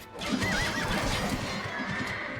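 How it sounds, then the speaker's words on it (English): Wild horses in the video game Age of Empires II: Definitive Edition whinny and neigh close by while hooves clip-clop underneath, a lively burst of equine calls. "Plenty of wild horses down here."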